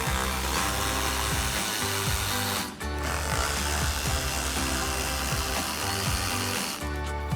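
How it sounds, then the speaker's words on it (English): Power driver spinning T15 Torx screws out of a 2020-2023 Chevrolet Silverado 2500 front fender liner, a loud continuous whirring run with a brief pause partway and another near the end. "Now we'll take our T15 torque bit and remove these."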